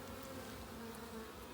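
Honeybees at an open hive during an inspection in a June apiary in Ballachulish produce a dense, steady buzz close by, faint overall, with no talk.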